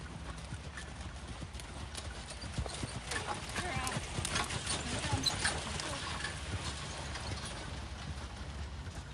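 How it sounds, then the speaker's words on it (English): Steady clip-clop of horse hooves on a hard surface, a continuous even rhythm close by, with quiet talking mixed in. "having a horse that is absolutely quiet as Adira is completely the best thing possib"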